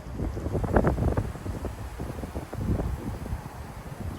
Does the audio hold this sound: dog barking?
no